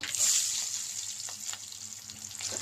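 Shallots and garlic frying in hot oil, a bright steady sizzle with occasional stirring scrapes, close up and without talk.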